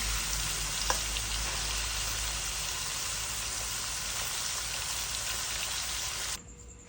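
Loud, continuous sizzling of chicken frying in hot oil in a pan, crackling steadily for several seconds before cutting off abruptly near the end.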